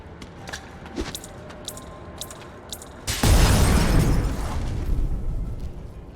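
Three seconds of quiet game ambience with faint ticks, then a grenade explodes in XCOM: Chimera Squad with a sudden loud, broad blast that rumbles on and slowly fades.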